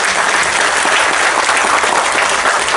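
Sustained, dense applause from a large audience at a Tamil film trailer launch event for Bottle Radha, steady and loud throughout with no pauses.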